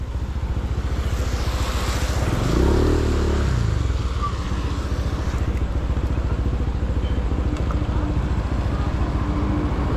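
A motorcycle rides through floodwater in Baguio, its engine droning loud and steady while a brief surge of water noise swells and fades near the middle.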